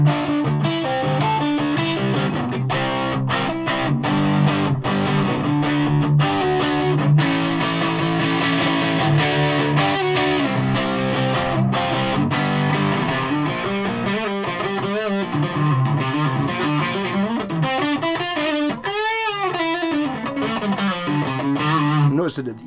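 A Gibson Les Paul 50s Tribute electric guitar played through distortion and reverb, with loud sustained chords and riffs, bends and a pitch-swooping passage near the end, continuous and close for over twenty seconds.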